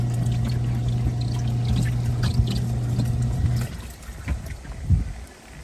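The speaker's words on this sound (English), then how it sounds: "See, you can see it splashing over there, and it's going down into the spin basket and automatically draining." Water splashes inside a portable washing machine and drains down into its spin basket. A steady motor hum runs beneath the splashing, then cuts out partway through, leaving a few irregular, close-up sloshes and trickles.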